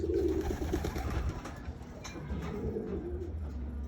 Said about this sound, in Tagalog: First time lang natin yan, pinakawalan mga kalapatids.